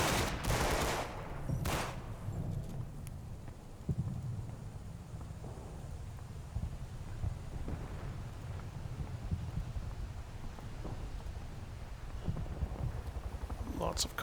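Artillery fire for effect in the Combat Mission: Battle for Normandy war game, with heavy booms and bursts of shelling rumbling over wind-like noise and scattered gunfire, a voice speaking at times.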